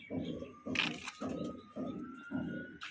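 Rajshahi giribaz pigeons coo up close, five low, throaty coos in a steady, even rhythm with brief gaps between them and faint background noise.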